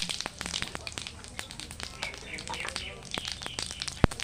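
Cumin seeds sizzle and crackle in hot oil, a close, busy spatter of small pops with one sharper crack near the end.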